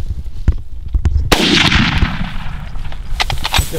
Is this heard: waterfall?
no